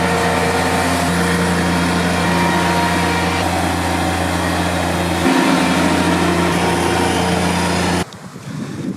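A Bobcat MT100 mini track loader runs with a steady, loud engine drone in a back yard during an oak tree removal, holding a constant pitch before it cuts off near the end, leaving only faint background noise.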